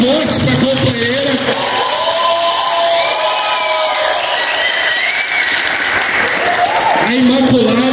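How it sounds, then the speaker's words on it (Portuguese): Loud, sustained applause and cheering fill a hall at a political party's state congress in Minas Gerais, honoring a comrade, with whoops and voices rising above the dense clapping throughout. "queria uma salva de palmas forte para a companheira."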